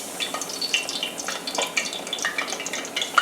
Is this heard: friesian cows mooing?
no